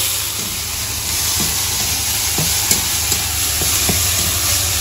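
Onion, garlic and dried chili paste sautéing in a pan for a grass carp fish curry, with a loud constant sizzle and hiss under scattered scraping stirs, close by and without speech.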